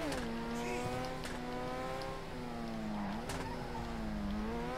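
Declasse DR1 race car exhaust from GTA Online, a steady loud engine drone with rising and falling pitch as it revs through corners, with brief bursts of tire or exhaust noise.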